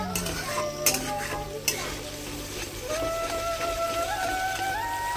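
Mustard paste masala is stir-fried in oil in a village kitchen pan, a low steady sizzle with a couple of sharp spoon scrapes early on, close and continuous.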